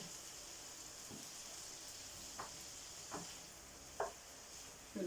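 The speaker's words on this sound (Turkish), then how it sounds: "kavrulsun şimdi arkadaşlar güzelce" Kavurma meat roasting in a gözleme pan used as a sac, with a steady low sizzle and faint stirring scrapes, plus a few soft clinks of a utensil against the pan; no talk.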